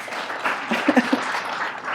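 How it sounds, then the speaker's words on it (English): Applause from a lecture-hall audience welcoming a new course staff member, a light scattered patter of claps with a few louder hits in the middle, moderately distant and fairly thin. "also clap for Natalie"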